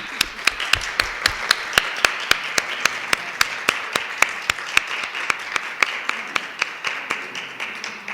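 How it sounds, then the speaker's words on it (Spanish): An audience applauds a doctor at a book presentation on Opus Dei believing women, with steady crackling clapping and a few sharp, evenly spaced loud claps standing out near the microphone. "para quien pido un fuerte aplauso"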